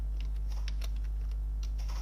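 Light, rapid keystrokes on a computer keyboard while entering JavaScript code, a scattered run of soft clicks at close range over a steady low hum, with no talking.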